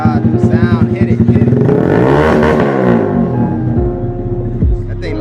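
Loud, close Honda Grom motorcycle exhaust, a choppy fast idle that climbs into a hard rev and falls back, with people talking faintly underneath.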